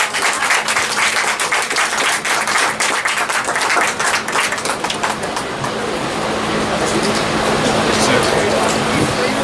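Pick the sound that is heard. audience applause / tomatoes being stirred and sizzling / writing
audience applause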